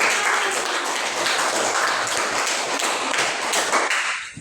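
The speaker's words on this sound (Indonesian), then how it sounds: "Tepuk tangan." A class bursts into close, energetic hand clapping that holds steady for several seconds and then tapers off at the end, with no voices over it.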